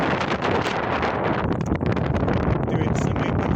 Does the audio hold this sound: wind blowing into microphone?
yes